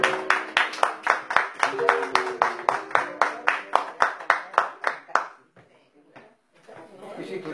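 A crowd at a tango venue claps in a strong, rhythmic unison beat for a singer, then the clapping stops abruptly, leaving a quiet room with faint murmuring.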